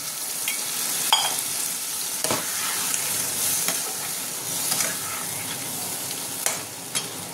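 Masala for a prawn and watermelon-rind curry sizzles in a pan after a little water is added, a continuous crackling hiss with scattered sharp pops and faint stirring scrapes, close and with no voices.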